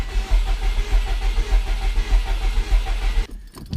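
The engine of a 2003 Subaru WRX with a suspected valve fault cranks and runs with a loud, rough, pulsing low rumble that cuts off abruptly near the end, with no talking.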